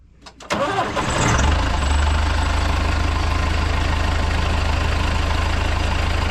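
A farm vehicle's engine cranks with a few sharp clatters, catches, and settles into a loud, steady close-up idle that drones on evenly.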